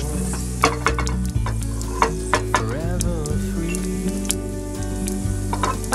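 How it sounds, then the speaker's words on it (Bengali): Panch phoron whole spices sizzle and crackle in hot oil while a utensil stirs and scrapes the pan, with sharp irregular pops over a continuous frying hiss, close and loud. "তেলটা গরম হয়ে গেছে, এখন আমি এই 5 ফোড়নটা তেলের মধ্যে ঢেলে দেব।"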